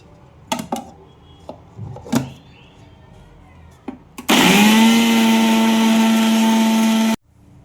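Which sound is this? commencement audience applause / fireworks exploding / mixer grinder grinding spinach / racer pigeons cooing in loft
mixer grinder grinding spinach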